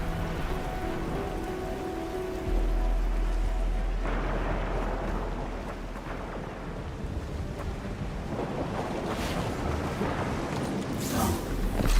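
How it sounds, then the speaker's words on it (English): Heavy rain pours down in the video game Endfield, a dense, steady hiss that swells louder partway through, with low rumbles underneath and no voices over it. "It's raining harder. I can't hear anything except for the rain."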